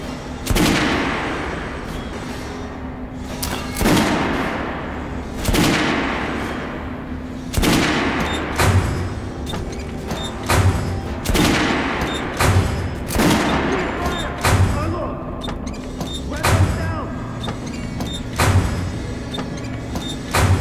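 Kalashnikov rifle fire in the shooter game Metro Last Light comes in loud repeated bursts and single cracks spread across the stretch, with heavy echoing booms and mechanical clanks between shots, close and dominant.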